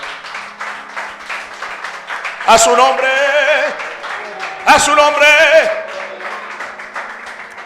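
A church congregation applauds in a run of steady clapping, while a preacher's loud amplified voice calls out twice over it.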